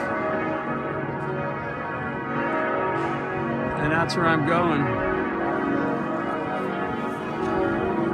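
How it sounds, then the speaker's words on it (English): Church bells ring steadily in the background in Strasbourg, France, a sustained wash of tolling tones, while someone speaks briefly over them. "as you hear in the background, the bells are going off."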